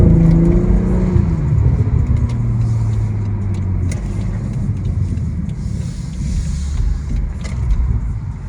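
A BMW 440i Gran Coupe xDrive accelerates hard with automatic upshifts, its engine note rising and then dropping at a gear change before climbing again, a loud close-up rumble from inside the car.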